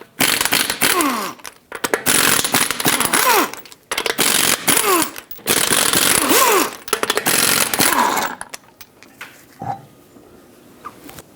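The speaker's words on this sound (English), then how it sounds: "Use a 21mm socket, take all 5 of your lug nuts off" An impact wrench on a 21mm socket spinning off the lug nuts of a 2013-2020 Nissan Pathfinder front wheel, in four loud rattling bursts of a few seconds each, followed by quieter clinks.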